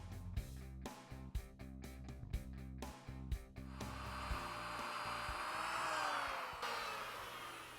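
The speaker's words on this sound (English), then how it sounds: "Now we're drilling some holes for the pins to lock our stretchers into position." A power drill bores pin holes into white oak barstool stretchers. Short bursts of drilling start and stop in a rapid rhythm, then one longer whining run builds and fades, close and clear, with no talk.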